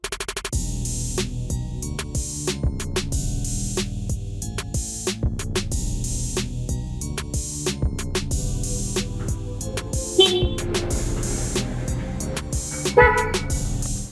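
Repeated loud aftermarket dual horn honks on a Yamaha Aerox motorcycle in short bursts, some held longer, with a few brief pauses between blasts.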